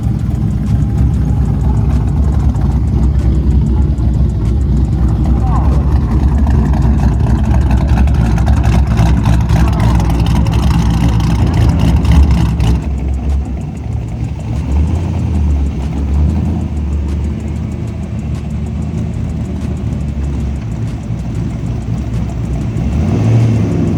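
Drag racing car at Darlington Dragway idling loud and close while warming up, a continuous deep rumbling drone that stays steady and eases slightly partway through, with no talking.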